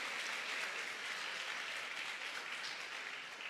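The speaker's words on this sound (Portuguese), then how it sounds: "dê uma salva de palmas para Jesus." A church congregation bursts into steady, dense applause that fills the room for a few seconds, a continuous wash of many hands clapping at moderate loudness with no talk over it.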